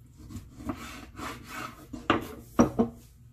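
Griot marinade with chopped tomato, thyme, parsley and a spoonful of olive oil being mixed in a bowl, heard as soft repeated rubbing and scraping with a few sharper knocks near the end, close and alone.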